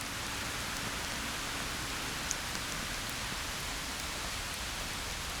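Steady rain falls on a city street in Geneva, an even, continuous hiss with no voices.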